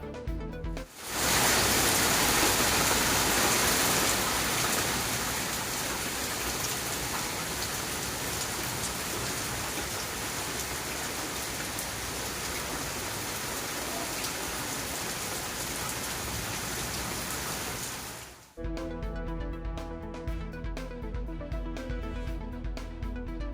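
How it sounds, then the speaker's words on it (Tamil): Heavy rain pouring down in Pudukkottai, Tamil Nadu, a dense and constant hiss of drops hammering surfaces, loud and unbroken for most of the stretch. The rain then cuts off abruptly and music begins. "புதுக்கோட்டையில் இடி மின்னலுடன் கொட்டி தீர்த்த கனமழை."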